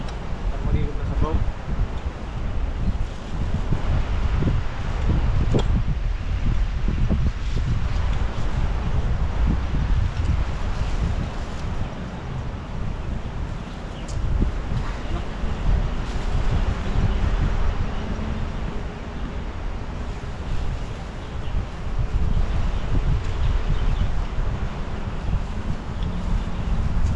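Strong wind blowing outdoors in a rural provincial setting, a constant loud rushing and buffeting against the microphone that lasts the whole time with occasional gusty swells.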